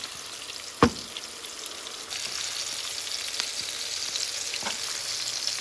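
Spices with salt and turmeric sauté in a hot pan, giving a steady close sizzle with a sharp clack from a utensil near the start and soft stirring scrapes later.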